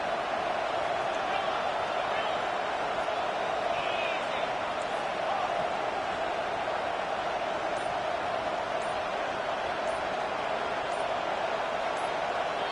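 A stadium crowd roars in the video game College Football 25, a dense, constant wall of cheering noise held at steady loudness throughout, with a commentator's voice over it.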